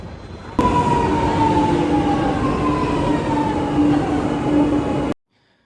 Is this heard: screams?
no